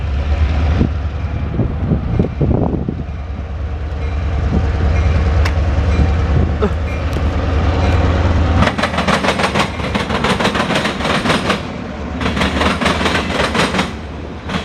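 A CSX eastbound local freight train rolls past in Marion, Ohio: a steady low rumble of engines, then rhythmic clicking and clattering of railcars over the rail joints, loud and close throughout.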